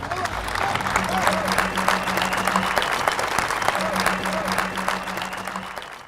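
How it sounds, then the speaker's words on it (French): Audience applause at a presentation, a steady continuous patter of clapping at moderate level with a faint voice and some tonal hum underneath. "c'est vous qu'il faut applaudir"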